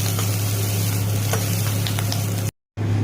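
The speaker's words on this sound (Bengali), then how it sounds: "ক্যাপসিকামগুলোকে হালকা করে ভেজে নামিয়ে নিয়েছি" Large cut capsicum pieces fry in hot oil, a steady close sizzle with scattered crackles and spits running without pause, cut off abruptly near the end before resuming.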